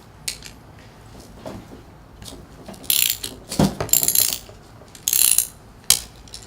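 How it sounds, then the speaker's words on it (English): A hand ratchet turns a 1/2-inch bit while a Hammond pump is taken apart, giving scattered close clicks and several loud bursts of metallic rattling and clanking with no talk. "So this is a 1/2-inch bit. That's just on a ratchet."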